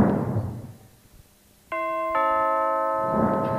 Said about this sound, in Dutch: De bel en dat betekent tijd voor de speciale gasten